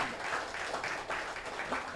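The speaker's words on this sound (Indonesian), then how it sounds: "Tepuk tangan lagi ya." An audience claps at a business seminar gathering, a steady wash of applause that holds at moderate loudness throughout without any talk over it.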